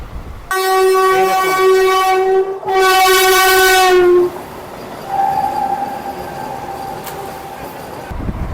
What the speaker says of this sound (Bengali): এখন ট্রেনটা প্রায় একশো আট কিলোমিটার গতিতে চলছে